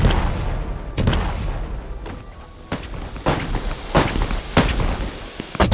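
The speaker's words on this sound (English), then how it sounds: "They're all exploding in the middle of the road." A rapid, irregular barrage of loud fireworks bangs and cracks goes off one after another in the middle of a road in the video game Fireworks Mania, with rumbling noise between the blasts.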